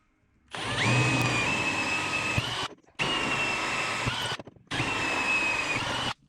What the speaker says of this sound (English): We'll drill the 1/4 inch holes now.